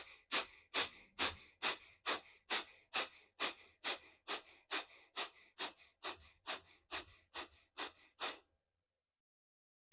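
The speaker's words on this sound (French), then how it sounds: "vous pouvez également avoir une respiration beaucoup plus rapide" Fast rhythmic breathing through the nose in a breathwork exercise, about seventeen sharp even puffs close to the mic, then silence.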